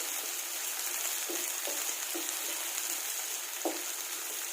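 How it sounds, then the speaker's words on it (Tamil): Onions sauté in a pan for kovakkai fry, a steady bright hiss of frying up close, with a few soft knocks of a spatula scattered through. "ஆனியன் வதங்கட்டும்."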